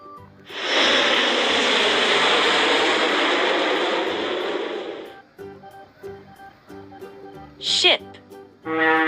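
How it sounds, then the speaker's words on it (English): An airplane engine roars as a loud, steady rushing drone for about five seconds, then fades out, leaving light background music and a brief spoken voice. "Airplane."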